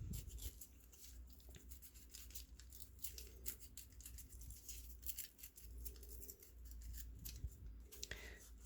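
A sharp knife scrapes and roughens the texture of foam board for wargaming ruins, making quiet, close, repeated scratchy strokes in an uneven rhythm.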